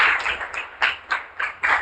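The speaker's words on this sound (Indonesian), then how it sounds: "tepuk tangan buat kita semua." Students in a classroom clap their hands in a rhythmic pattern, a series of crisp group claps in short bursts, fairly close and loud.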